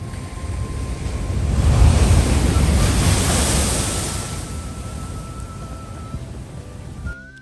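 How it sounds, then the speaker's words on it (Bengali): A big sea wave rolls in and crashes with a deep, booming roar, then slowly washes back out while wind rushes across the microphone, on the coast of Malé, Maldives. "অনেক জোরে জোরে জোরে ঢেউ"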